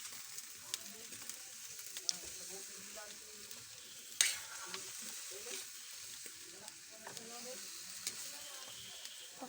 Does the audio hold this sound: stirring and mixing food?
yes